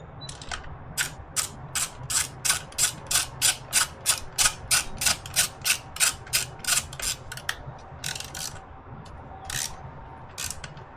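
A ratchet wrench tightening a bolt on an Acerbis skid plate for a KTM/Husqvarna/GasGas 300 motorcycle: a fast run of evenly spaced close clicks, then a few slower, scattered clicks at the end.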